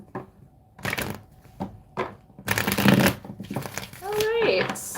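Tarot cards shuffled by hand during a live card pull, several quick riffling bursts close up, with a voice talking between and over them.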